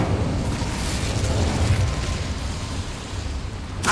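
Fire spell cast in the Hogwarts Legacy video game, a sustained loud whooshing roar of flame with rumbling low end throughout, ending in a brief bright burst.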